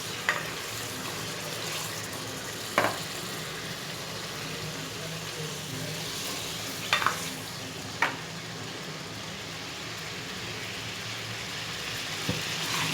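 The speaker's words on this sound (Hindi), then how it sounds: "अब मैं इसमें चिकन शामिल करूँगी और 5 मिनट तक इसे अच्छी तरह से फ्राई कर लूँगी।" Chicken frying in oil in a karahi, dhaba style, a steady hiss of sizzling throughout with a few sharp clinks of a utensil stirring against the pan.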